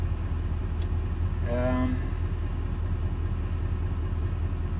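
A 6.7-liter high-output diesel engine idles steadily with a low, constant rumble throughout, and a brief word is spoken partway through.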